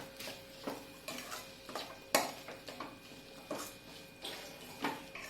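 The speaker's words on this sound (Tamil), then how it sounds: "இதையும் போட்டு நல்லா ஃப்ரை பண்ணிக்கோங்க." Potato filling for aloo paratha frying in a pan with turmeric, chili powder and garam masala, heard as intermittent stirring scrapes and utensil clinks against the pan over a faint sizzle, close and fairly quiet.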